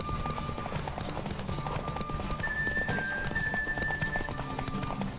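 A horse gallops in The Witcher video game, with rapid rhythmic hoofbeats under a bed of game music and effects, a brief whinny-like tone partway through, and some voices mixed in.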